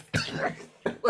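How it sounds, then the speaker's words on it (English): A short, close cough followed by a second rougher burst a moment later, with no talking in between. "I keep coughing."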